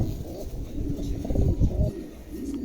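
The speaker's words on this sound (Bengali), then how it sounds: "চমৎকার এক জোড়া কবুতর, নতুন একদম নতুন নিউ মেডাল কবুতর" Pair of New Medal pigeons cooing softly and repeatedly, low rounded calls close by in a quiet setting without talk.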